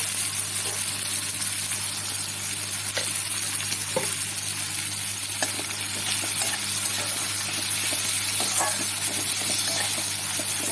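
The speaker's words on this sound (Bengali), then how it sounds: "একটু ভাজা ভাজা করে নিই" Continuous crackling sizzle of chopped onions frying in a pan, with occasional light stirring clicks, close and steady throughout.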